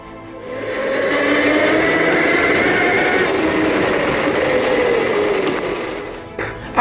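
An electric pit bike riding on gravel roads, its steady motor whine and tire crunch holding loud and close throughout, easing slightly toward the end.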